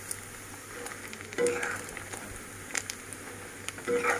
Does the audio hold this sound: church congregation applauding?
no